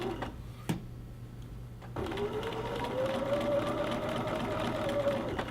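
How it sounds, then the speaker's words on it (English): A sewing machine stitches a gathering sample to the end of the seam before backstitching. A quiet pause opens the clip, then the steady close whirring runs unbroken to the end. "I'm going to go right to the end, and I'm going to back stitch."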